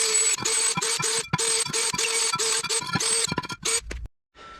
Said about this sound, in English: So I just take a wire wheel and clean this one up quick.